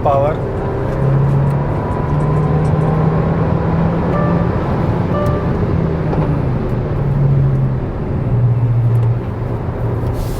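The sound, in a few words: modified Hyundai car turbo engine accelerating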